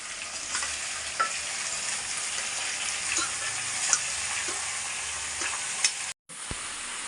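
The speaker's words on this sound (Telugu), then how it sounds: "ముక్కలు వేసేస్తున్నా దాంట్లోకి వేసుకోవాలి ఇంకా ఈ ఈ మొక్క అంతా మసాలాలో బాగా వేగాలి" Mutton pieces sizzle and fry steadily in masala, a dense continuous crackle with occasional stirring clicks, close and fairly loud, ending with a brief cut and a sharp tap.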